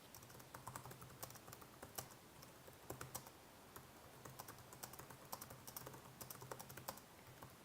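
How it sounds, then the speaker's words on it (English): Steady, quiet clicking of keys on a computer keyboard while typing text in Illustrator, a continuous run of quick taps with no voices. "I can keep typing"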